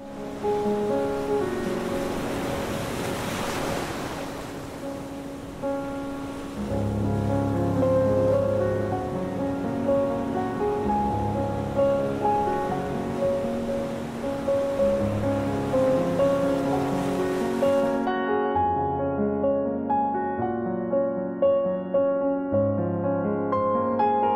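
Surf washes steadily onto a clean white sand beach on the Gulf Coast, a continuous rushing hiss beneath music that plays throughout and continues alone once the waves drop away near the end.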